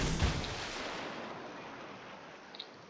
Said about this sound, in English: I did manage to land a couple torpedoes